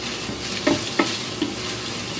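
Ground pork frying in a pan sizzles steadily up close, with a few sharp clinks of a utensil against the pan as it is stirred and no talking.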